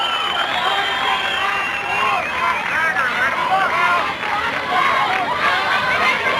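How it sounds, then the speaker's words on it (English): Crowd at a high school softball state championship in Auburndale: a steady, loud wash of chatter and scattered cheers fills the whole stretch, with a commentator talking over it. "Crowd continuing to swell here in Auburndale"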